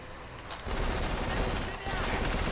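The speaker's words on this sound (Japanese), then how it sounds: "銃声がかっこいい" Rapid, dense bursts of automatic fire from a P90 submachine gun in the video game Black, loud and close, with a brief pause between two long sustained bursts.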